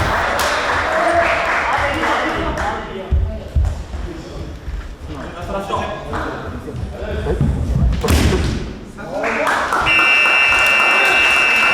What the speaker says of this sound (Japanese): ここでブザーが鳴りました。